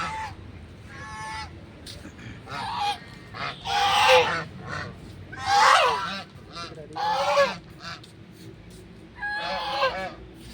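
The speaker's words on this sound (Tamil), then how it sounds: "அங்கே இருக்கிற வாத்து வந்து கலர் சூப்பராக இருக்குல்ல தனுஷ்காட்?" Several ducks quack and honk in loud, ragged bursts, close by, with brief gaps between calls and faint talk in the background.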